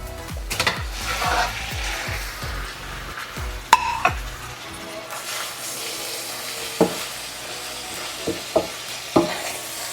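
Beef sizzling and frying in a hot pan for mechado, stirred with a utensil that scrapes and clacks against the pan in quick bursts early on, then steady sizzling with occasional sharper knocks, close and clear with no talking.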